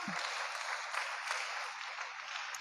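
Applause from a church congregation during a prayer service: a steady, dense wash of clapping that holds evenly at a low, somewhat distant level throughout.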